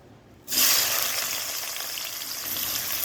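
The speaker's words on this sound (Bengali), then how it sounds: "পেঁয়াজ লাল লাল করে ভাজি পেঁয়াজ ভাজি হয়ে গেছে" Onions frying in oil, a loud hiss bursting in abruptly after a moment of quiet and settling into a steady, close sizzle with no voices.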